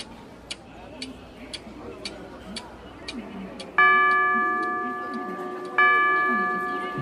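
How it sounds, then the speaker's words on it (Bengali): Clock ticking in a Bengali horror audio story: regular sharp ticks in an evenly spaced rhythm, then two chime strikes ring out and sustain, with soft ambient background. "ঘড়িতে টিকটিক করে 8টা বাজল।"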